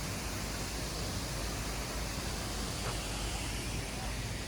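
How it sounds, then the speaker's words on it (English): A small waterfall on museum grounds gives off a steady, broadband rush of falling water, constant and even throughout with no distinct events. "Little waterfall."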